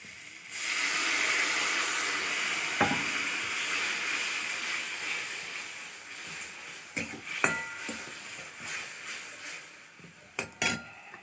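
Water poured into a hot pan cooking ambarella with small fish, giving a loud rushing hiss and steam that slowly fades, followed by a few sharp clinks of utensils against the pan.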